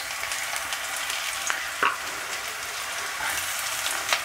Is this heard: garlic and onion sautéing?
yes